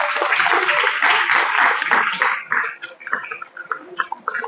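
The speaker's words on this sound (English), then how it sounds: "I request all of you to kindly give them a round of applause." An audience at a school event claps, heard as a thin, band-limited wash of applause that breaks into scattered, uneven claps as it dies away.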